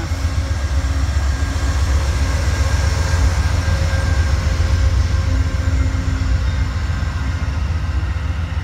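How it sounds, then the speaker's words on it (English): The Amtrak 56 Vermonter passenger train passes northbound through Greenfield, Massachusetts, with a loud, steady rumble of wheels and engine filling the whole stretch and heavy low-end roar throughout. "4:42 p.m. Amtrak 56 Vermonter, northbound, Greenfield, Mass."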